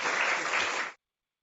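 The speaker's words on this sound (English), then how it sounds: "If you could help me welcoming them with a round of applause" Burst of applause from an audience welcoming panel members at a rule of law festival community conversation, steady clapping for under a second that cuts off abruptly.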